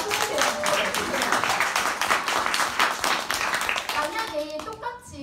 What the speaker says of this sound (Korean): 박수 주세요. 박수 주세요.